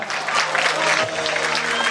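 Steady, loud audience applause at an outdoor beach beauty pageant, with dense clapping filling the whole stretch and a faint low hum beneath.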